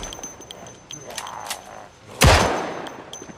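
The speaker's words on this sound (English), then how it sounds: "Just gonna use the pistol. Why waste good bullets on zombies?" Pistol gunshot against zombies in Project Zomboid: one loud, sharp crack after a stretch of quieter game noise, followed by a fading tail.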